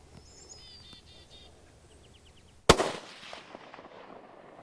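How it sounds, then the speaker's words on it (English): A single loud, sharp rifle shot rings out while hunting a blacktail deer buck, followed by a fading rumble of echo, with faint birdsong chirping outdoors before it. "you want me to take the shot?"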